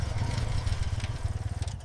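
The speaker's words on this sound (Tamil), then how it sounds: "வண்டிய மெதுவா ஓட்டுறா." A motor vehicle rolls along slowly with a low, pulsing engine rumble that holds steady throughout, close and fairly loud.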